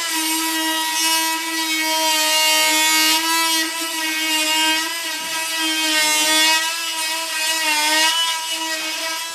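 A oscillating multi-tool buzzes steadily as it cuts off wooden shims during trim work, a close, continuous high-pitched whine with a dense stack of harmonics that holds its pitch for about nine seconds with slight loudness swells.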